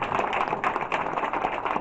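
An audience at a Kyani presentation in Kyiv claps, with dense, close applause as rapid overlapping hand claps that keep a steady level throughout.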